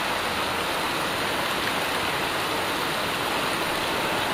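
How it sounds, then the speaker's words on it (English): Water spilling down from a bridge during a storm, a dense, steady rushing wash like a heavy stream or downpour, constant and unbroken. "Water spilling down from the bridge?"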